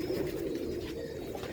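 Several domestic pigeons coo in a low, steady, overlapping murmur, close by and continuous throughout.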